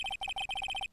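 A cell phone ringing in the video game Phoenix Wright: Ace Attorney, a rapid electronic trill in quick paired bursts that repeat several times and then stop, clear and alone.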